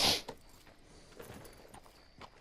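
Soft, irregular hoof clops of a horse walking in the video game Red Dead Redemption 2, scattered and moderately near, after a brighter burst at the start over a faint background hum.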